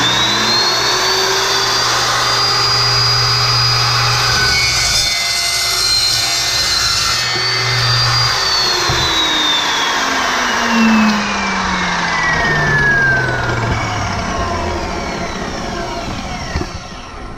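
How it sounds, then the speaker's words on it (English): An Evolution S355 metal-cutting chop saw slices through metal clamped in a vise, its loud motor whine rising and holding while the blade grinds steadily through the cut, then the motor winds down, close up and without talk. "All right, let's make a quick cut."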